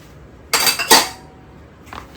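A kitchen knife slicing frozen food straight in its container without a cutting board gives two close, sharp scraping crunches in quick succession, then a fainter third scrape after a pause.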